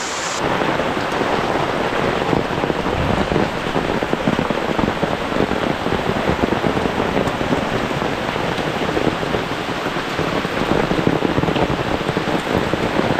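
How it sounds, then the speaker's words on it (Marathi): Heavy rain pours down in a dense, constant roar, close and loud, with a low rumble of thunder beneath it and no voices. "आणि आता तो पाऊस जोर वाढला आहे"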